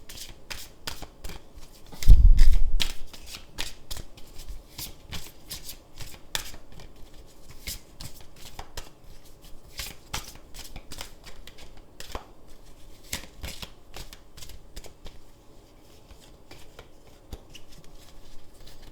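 Sonia Choquette oracle cards being shuffled by hand produce rapid, repeated riffling flutters across a long stretch, with a louder thump early on and no voices.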